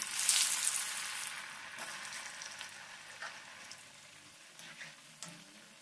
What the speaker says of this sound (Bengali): একই রকমভাবে আমি বাকি চপগুলো ভেজে নিচ্ছি।